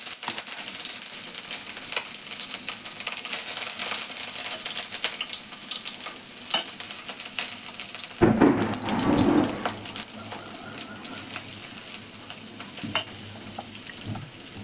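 Chopped onion dropped into hot oil for squid masala, a soft hiss that swells suddenly midway with a burst of sizzling and stirring, then settles into a quieter fry beneath faint kitchen noise.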